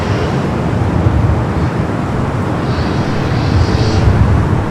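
A Boeing 747 nicknamed the Queen taxis toward runway 24 Left at LAX, heard as a steady, broad engine roar mixed with airport and road traffic noise, fairly loud and unbroken throughout.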